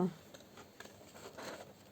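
Small scissors snip through paper for scrapbooking, a few light, crisp cuts close by, partly under a woman's speech.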